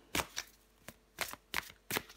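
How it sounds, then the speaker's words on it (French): Tarot cards are shuffled in close, crisp bursts, four or five quick riffling rustles spaced irregularly, with no voice. "Je prends encore une carte pour vous, les béliers."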